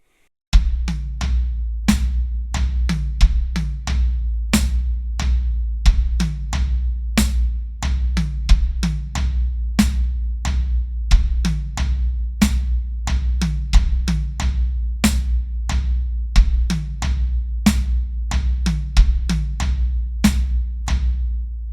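A steady drum groove built around high tom hits with cymbal or stick accents over a low sustained bass thump, repeating evenly and played alone at close range.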